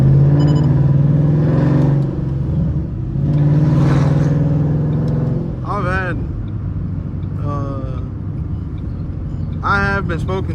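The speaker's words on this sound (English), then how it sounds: "I have been spoken to about those pops coming out the exhaust." A tuned car's exhaust revving loudly, with sharp popping crackles bursting out in short clusters after the engine note drops; someone talks over the rumble throughout.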